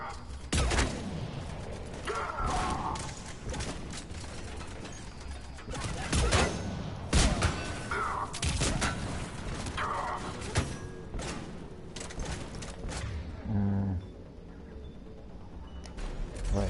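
Gunfire from a sci-fi shooter game, Mass Effect 3, in a sniper-rifle firefight: repeated loud, sharp shots and bursts in irregular volleys over a dense, continuous battle din.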